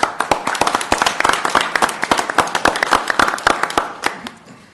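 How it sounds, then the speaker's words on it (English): Audience applause at a city council election forum, a steady patter of many hands clapping close by, fading out toward the end, with no talk over it. "So a round of applause"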